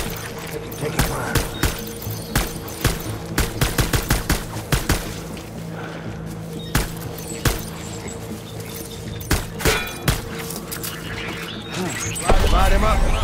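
Gunfire in the game Death Stranding, with repeated sharp shots cracking out in irregular bursts and clusters over a steady background hum, then a louder rumbling surge near the end.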